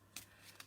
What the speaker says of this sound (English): I wouldn't be shuffling if I wasn't expecting another card